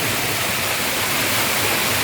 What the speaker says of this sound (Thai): อันนี้น้ำตกจำลองนะครับ